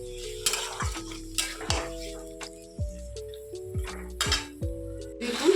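Bay leaf, cinnamon, cloves, cardamom and cumin fry in a pan for a chicken dish while being stirred, with soft crackling sizzle, clinks and scrapes of a utensil at close range, plus a faint steady tone underneath.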